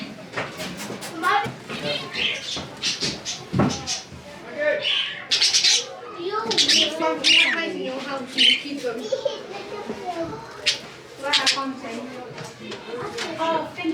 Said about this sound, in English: Oh, Finches, I had some of these.